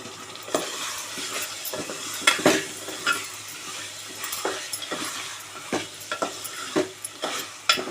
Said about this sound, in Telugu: ఇది బాగా నూనెలో మగ్గాలి.